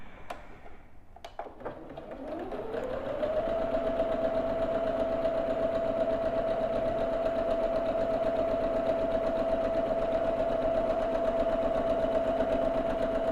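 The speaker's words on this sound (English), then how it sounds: "now I have these pinned and I'm ready to stitch" A sewing machine stitches a quilt top, starting after a few clicks and then running at a steady, even hum close by and alone.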